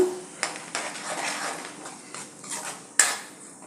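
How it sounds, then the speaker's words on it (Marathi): A spoon scrapes and clinks against a pan while masala is stirred and sautéed for a cashew and paneer curry: light metallic scraping with a few sharp taps, close and fairly quiet. "आणि हा मसाला हे एक दोन ते तीन मिनिट व्यवस्थित परतून घ्यायचा आहे"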